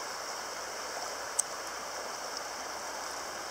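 Cold river water flows steadily near lingering ice, a continuous broad wash of running water at moderate level with no voices, one tiny click standing out briefly.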